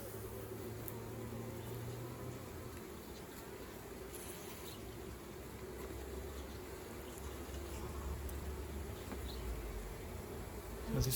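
Honey bees buzz steadily inside an open hive during maintenance work, a dense, continuous drone close by with faint scattered clicks of handling over it and no talking.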